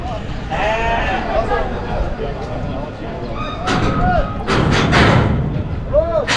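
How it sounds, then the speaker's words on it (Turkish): Lambs bleat loudly and repeatedly at a busy livestock market, their wavering cries rising over constant crowd chatter and the occasional thump. "İbrahim kardeşimizin kuzularına bakıyoruz"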